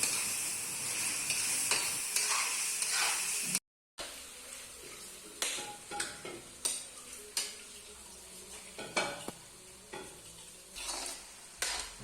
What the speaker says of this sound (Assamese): এতিয়া মাংসখিনি ফ্ৰাই কৰি আছে।